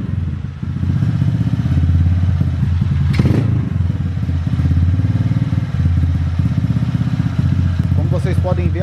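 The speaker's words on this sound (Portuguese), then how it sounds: "Vou funcionar ela aqui para vocês verem mais ou menos o que está acontecendo, galera. Vou acelerar ela para vocês verem, ó." A 150cc motorcycle engine fitted with a new carburetor, smoking heavily and not yet fully warm, runs loud and close with a steady, throbbing note, a brief blip of throttle, and some clatter.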